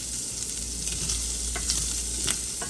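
Shrimp, some whole and some halved, brown in a hot pan with a steady close sizzle and a few light stirring scrapes, with no voices.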